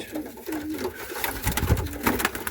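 Soft coos of a Turkish Takla pigeon murmur close by, a few low rolling calls over faint background noise.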